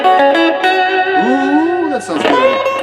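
Electric guitar on the neck pickup run through a pedalboard, sustained chords and bending notes with effects, distortion and reverb, loud and continuous with no talk.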